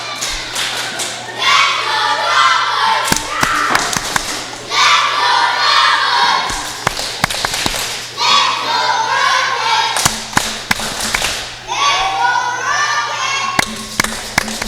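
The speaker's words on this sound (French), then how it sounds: "La foule qui continue." A crowd at a hockey semi-final roars and shouts in waves, loud and surging, with sharp claps and thuds cutting in between the swells.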